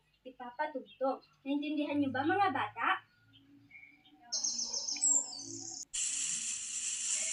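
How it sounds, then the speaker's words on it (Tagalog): After a voice speaks to children, a played recording brings in bright chirping bird calls, then a steady broadband wash of wind and rustling leaves, faint and recorded in tone. "ito ay tunog ng hangin, kaluskos ng dahon at huni ng mga ibon"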